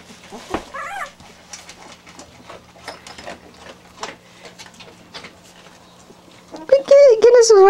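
Small high-pitched whimpers from puppies, scattered over a quiet stretch of light clicks, rising to louder whining cries at the end.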